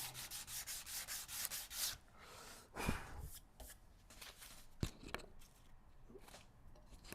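Rhythmic sandpaper strokes rasp over wooden guitar X-braces, quick steady scrubbing at first, then slower, scattered rubs with a few sharp knocks.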